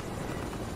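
A helicopter in the video game Fortnite gives off a continuous, moderately loud rotor and engine whir, steady for a brief moment without any other sounds.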